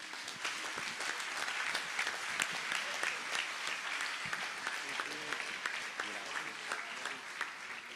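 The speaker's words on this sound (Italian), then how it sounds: "Un applauso per Cristina Tangiani." An award ceremony audience in Sardinia claps continuously, a dense, even round of applause with a voice faintly audible underneath throughout.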